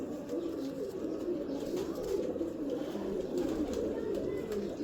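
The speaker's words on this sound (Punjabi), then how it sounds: "ਪਿਓਰ ਟੈਡੀ ਕਬੂਤਰੀ ਆ, ਲਾਲ ਸਿਰੀ।" Pigeons in a loft give soft, continuous cooing over a steady low murmur of background noise, with no clear talking.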